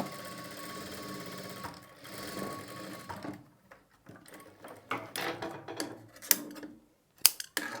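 A sewing machine stitches piping in a steady running whir, then breaks into short bursts, clicks and handling knocks as the fabric is adjusted.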